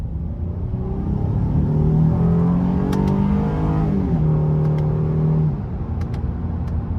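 Honda Ridgeline 3.5 V6 truck pulling hard in sport mode, engine note climbing in steady pitch, dropping briefly at a shift, then rising again, heard close from inside the cab with no talk.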